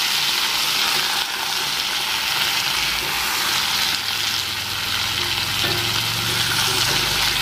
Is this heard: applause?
no